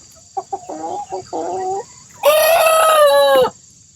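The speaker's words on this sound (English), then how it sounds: "Oh, somebody's learning to crow." Young homestead rooster learning to crow: a few short clucks and chirps, then one loud, close, strained crow that holds for about a second before cutting off, with no talk over it.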